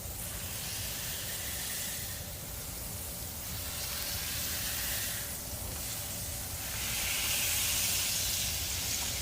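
Beef patties for a chopped cheese sizzle on a hot griddle in a steady, hissing crackle that swells and eases gently throughout, close and fairly quiet with no voices.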